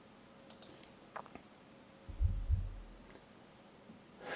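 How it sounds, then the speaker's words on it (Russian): Edifier T5s subwoofer playing alone, giving two deep, booming low thumps in close succession, fairly loud and resonant, with faint scattered clicks and a steady low hum in an otherwise quiet room. "Такой гулкий удар, да, вы его, возможно, услышали."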